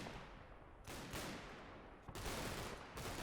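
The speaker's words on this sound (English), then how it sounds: "there's a machine gun in there still getting a bit of use" Machine gun fire in Combat Mission: Battle for Normandy during the defence of Gavrus, coming in two long, dense bursts separated by a brief lull, loud and continuous with no voices.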